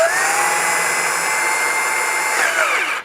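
A Ryobi cordless drill spinning a makeshift machine rig with plastic gears, a steady high-pitched motor whine with shifting tones that holds for about three seconds, then winds down abruptly, close and loud with no talk.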